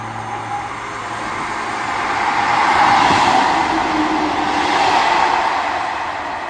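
A ScotRail Class 158 diesel unit passing through Edinburgh Gateway station, heard as a broad rumbling roar that swells in the middle as it goes by, then holds steady.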